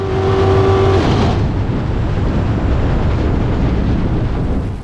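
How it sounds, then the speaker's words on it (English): A racing boat's motor roars loud and rough, a steady close engine blare that loses its tone and turns into a harsh noisy rumble as it fails, with wind buffeting throughout. "Mexican racer Antonio Villafuerte in A340 had motor troubles coming down on leg 5, and as you can hear, it was pretty catastrophic"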